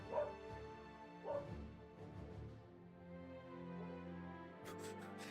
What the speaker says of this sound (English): A fucking dog, man, I swear.